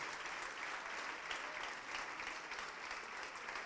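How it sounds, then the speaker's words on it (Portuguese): Church congregation applauding, a dense, continuous wash of many hands clapping at once, even in level and somewhat distant, with no clear pauses. "Vamos aplaudir mais ao nome do Senhor"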